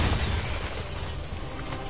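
Glass shatters in a video game: a loud, broad crash that spreads into scattered breaking fragments and fades over about two seconds, with no voices.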